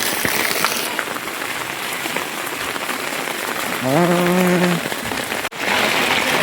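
Steady, dense rain pours onto a surface throughout, with a brief tonal hum rising in the middle before the downpour continues.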